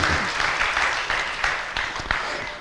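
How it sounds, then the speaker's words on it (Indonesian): Audience applause during a Buddhist talk on peaceful death and rebirth, a dense, continuous wash of many hands clapping together, loud and close throughout the short stretch. "Tepuk tangan dulu."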